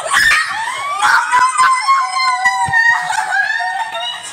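Loud, sustained high-pitched screaming from an old recording made after winning the Fang brawler in Brawl Stars, wavering continuously with a few sharp breaks, close and strained throughout.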